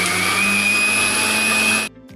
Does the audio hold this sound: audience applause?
no